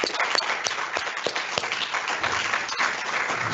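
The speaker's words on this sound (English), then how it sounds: "let's give Dr." An audience applauding at an event after a talk, a steady wash of many hands clapping at moderate distance, with a few sharper individual claps standing out.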